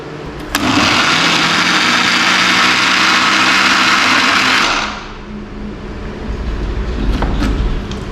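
A small mixer grinder jar whirs at full speed grinding toasted bread into crumbs, a loud steady high-pitched motor roar lasting about four seconds before it cuts off and winds down.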